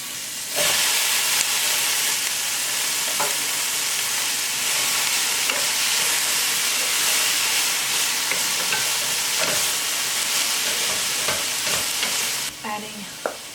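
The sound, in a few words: cherry tomatoes frying in a pan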